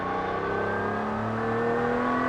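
Ferrari 250 SWB restomod built by GTO Engineering, its engine droning loudly and continuously with a steady, slightly rising rasp, close and without talk.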